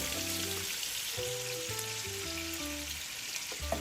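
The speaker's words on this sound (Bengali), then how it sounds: "এখন আমি এই তেলের মধ্যেই দিয়ে দিচ্ছি পেঁয়াজ বেশ কিছু কাঁচা" Raw onions frying in hot oil, a quiet continuous sizzle and crackle close by, with no talking.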